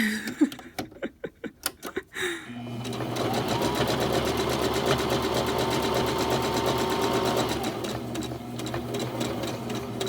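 A sewing machine stitches the loop of a Christmas stocking, starting after a few sharp clicks and then whirring steadily and close for several seconds without pause.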